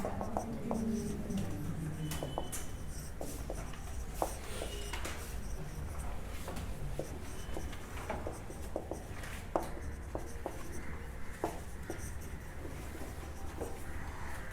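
Marker or chalk scratching and tapping on a classroom board during an accounting lesson, with steady strokes and small clicks running continuously under a faint room hiss.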